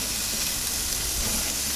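Beef burger patties cook on a grill over indirect heat, giving a dense, continuous sizzling hiss with no pauses.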